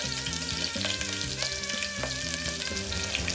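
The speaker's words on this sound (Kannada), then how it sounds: "ಮೆಣಸಿನ್ಕಾಯಿ ಚುರು ಚುರು ಚುರು ಚುರು ಅನ್ಬೇಕು" Green chillies sizzle steadily in hot oil, a constant crackling hiss running beneath louder melodic music throughout.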